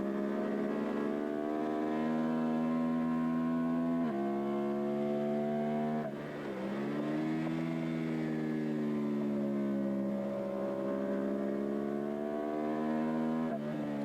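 A Suzuki SV motorcycle engine drones loudly and steadily during a bracket drag race, its pitch dropping abruptly at gear shifts and then climbing again; no talking.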